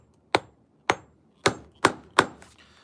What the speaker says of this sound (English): The handle broke on it, so I'm having to use this hammer.